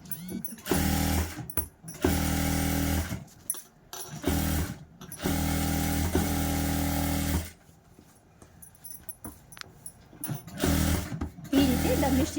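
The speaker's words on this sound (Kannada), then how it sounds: "ಈಗ ಡಮ್ಮಿ ಸ್ಟಿಚ್ ಹಾಕ್ಬಿಡೋಣ." Sewing machine stitching a dummy stitch on a blouse, with several loud, rapid whirring runs of stitching broken by short pauses, then quieter handling in the middle before a final burst.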